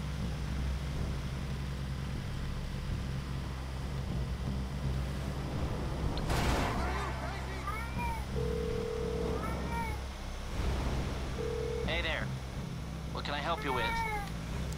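A cat meows several times during a video game session, its short, rising cries cutting through steady game noise, engine-like droning and a sudden blast, with people talking throughout.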